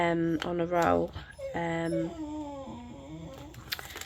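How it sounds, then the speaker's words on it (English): A pet dog whimpers and howls indoors, unhappy at something heard in the garden, with drawn-out wavering tonal cries close by, then fading to softer whines while a person speaks. "Sorry about that, that's my dog."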